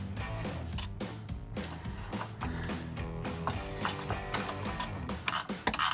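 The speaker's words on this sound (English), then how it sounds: "Get it started by hand and then use the ratchet in a minute." A hand ratchet clicks rapidly in steady bursts while tightening bolts on aftermarket extended sway bar end links, close and fairly quiet, with faint metallic clatter between strokes.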